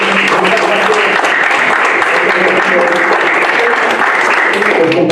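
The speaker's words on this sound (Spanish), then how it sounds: "quiero que les brindemos un gran aplauso a todas las personas" Steady, dense applause from a seated audience at a round-table panel event, continuous and loud throughout with no break.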